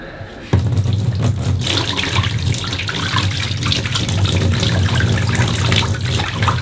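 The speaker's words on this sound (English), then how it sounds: "getting ready to pour some water" Water is poured into a bathtub drain during a bathroom repair, starting abruptly after a short pause and then rushing loudly and steadily for several seconds, close by, with no talking.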